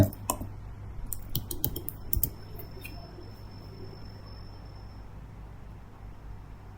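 Rapid clicking keystrokes on a computer keyboard come in a quick burst over the first couple of seconds, then give way to a quiet background hum.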